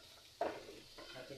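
Onion sautéing in a pan sizzles and crackles quietly, with a short stirring scrape partway through, all close and soft.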